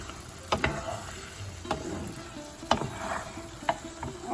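Potatoes and poppy seeds being stirred in mustard oil for aloo posto, a low background sizzle broken by several sharp spoon clacks and scrapes against the pan at irregular intervals.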